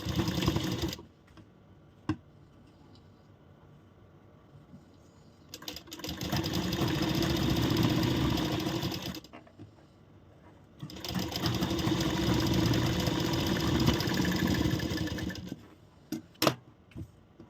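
A sewing machine stitches corset parts for a blouse in two long, close bursts of rapid mechanical whirring, separated by quiet pauses with small clicks and handling taps.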